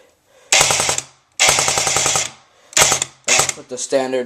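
An A&K M249 MKII airsoft gun running a standard motor fires several loud full-auto bursts, a rapid mechanical rattle at about ten to twelve rounds per second separated by short pauses.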